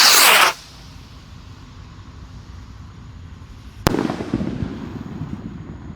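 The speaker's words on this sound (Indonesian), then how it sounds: "Ini yang kita tunggu-tunggu guys, Rocket Mars Roman Candle terbesar. Kita nyalakan teman-teman." A large Rocket Mars Roman candle firework fires outdoors: a loud burst at the start, a few seconds of quiet hiss, then a sharp crack as the next shot launches, followed by lingering crackle and rumble.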